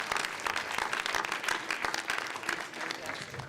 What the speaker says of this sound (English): And we're not even finished, but we also owe a round of applause to Risha for controlling us for that great c